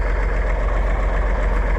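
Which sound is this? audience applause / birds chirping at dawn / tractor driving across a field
tractor driving across a field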